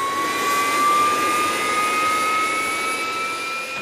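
A Harrier jet engine idling on a ground test run, a loud, steady close-up roar with a sustained high whine holding nearly constant pitch, no voices.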